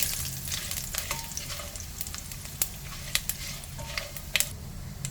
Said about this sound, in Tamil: ஒரு பத்து மிளகு அப்புறம் இந்த பட்டை இது எல்லாத்தையும் சேர்த்து நல்லா வதக்க போகிறோம்